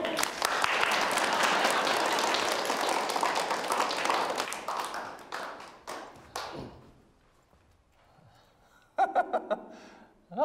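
A room of trainees in a sitcom classroom gives a brisk burst of applause that dies away into a few scattered claps. A quiet pause follows, then a voice speaks briefly near the end.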